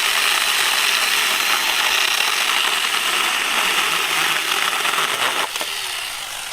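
A TomyVic 6-inch mini chainsaw cuts through tree branches with a loud, continuous buzzing rasp that stays steady throughout and eases slightly as the cut finishes.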